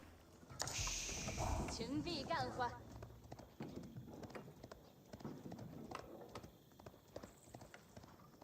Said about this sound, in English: Horsemen moving around.